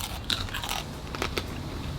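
Someone bites into crunchy pork chicharrón up close, giving a few sharp, crackling crunches in quick succession, followed by quieter chewing.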